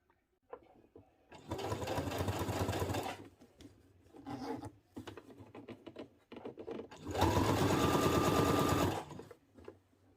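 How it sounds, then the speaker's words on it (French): A sewing machine stitches a long basting seam along a zip edge on a dress, two loud sustained runs of rapid whirring stitches separated by quieter handling of fabric and small clicks. "donc je démarre ma couture de maintien. Je vais mettre un grand point parce que c'est pas une couture définitive"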